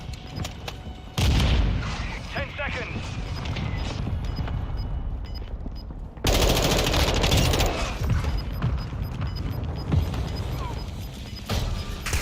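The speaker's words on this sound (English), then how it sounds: "Hostile mortar strike near your position." Explosive booms of a hostile mortar strike mixed with bursts of gunfire in the multiplayer shooter Modern Warfare II, loud and dense, with a sharp renewed blast about halfway through.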